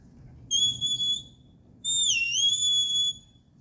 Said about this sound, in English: away whistle is the same as my first note on my steady